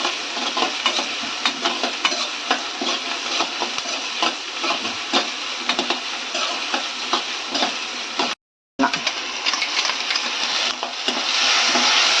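Chicken bhurji with tomato sautéing in oil in a pan, a steady close sizzle with frequent spatula scrapes and stirs, one brief dropout near the end, no talking.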